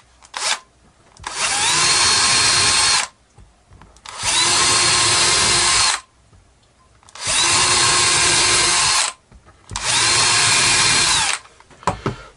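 A power drill boring pilot holes for screws into wood during a marking gauge build, loud whirring runs in four long bursts of about two seconds each, separated by short pauses, with no talk.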